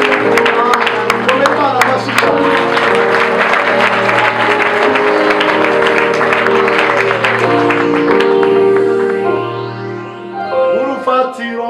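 A church congregation claps loudly and continuously, the applause running under dense sustained music with voices mixed in throughout.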